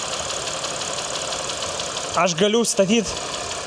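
A Porsche Macan engine idles with a steady low hum and faint knock. A person speaks briefly over the idle near the end.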